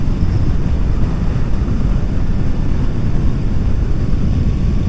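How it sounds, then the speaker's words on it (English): A Honda NC750XA motorcycle engine idles with a steady, low rumble at low revs, close by and continuous, with some wind buffeting the microphone and no talking. "Bad little engine this, when you kind of get used to its low revving."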